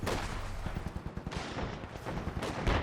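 Machine gun fire in Company of Heroes 2 rattles in fast bursts among heavier battle booms, loud and dense over a busy wartime din.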